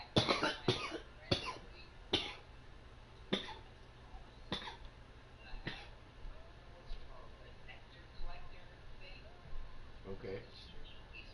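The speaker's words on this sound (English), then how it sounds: "I can't stop coughing." A coughing fit of sharp, repeated coughs, about ten bursts spaced irregularly over several seconds, close and fairly loud, with quiet background between them.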